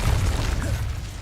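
A fire spell, Incendio, cast in Hogwarts Legacy gives a loud, dense low rumbling burst that rolls on steadily for just over a second, close and full, with no speech.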